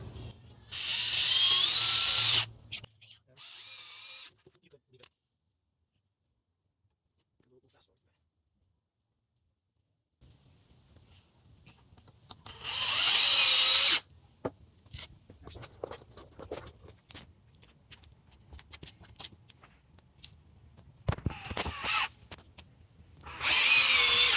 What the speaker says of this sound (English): we're going to screw them together